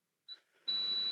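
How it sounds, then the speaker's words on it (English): A beep from a participant's unmuted microphone on a group call: a brief faint tone, a short pause, then a longer, louder sustained high electronic beep with no talking. "I'm hearing a little beep sound"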